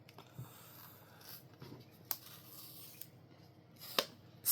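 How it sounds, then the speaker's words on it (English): Cardboard and plastic packaging of a Samsung Galaxy Z Fold7 phone box being handled up close, with soft rustling, scraping and sliding, plus a few sharp clicks and snaps standing out from the quieter handling. "Today we'll be unboxing the Z Fold7."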